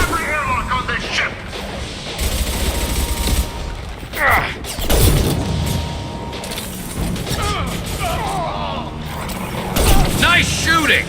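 Gunfire rattles through a Mass Effect 2 firefight aboard a prison ship, dense bursts of shots, mechanical clanks and crashes layered over continuous battle noise with voices speaking throughout.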